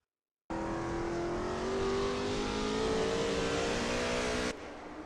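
A Lola T70 MkII Spyder race car in a racing video game at Brands Hatch, with a steady loud engine drone and a rising rev that holds through a corner before cutting off abruptly.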